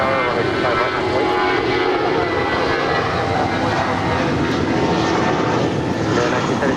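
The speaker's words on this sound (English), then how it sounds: "That is United 1977 departing to San Francisco. That is an A320." A United Airbus A320 takes off at LAX, a loud, sustained engine roar filling the clip, close and steady with no break.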